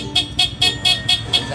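A car horn sounds in six short, evenly spaced honks while a horn relay is being installed during a car's mini driving light setup. The blasts are loud and close, with no talk over them.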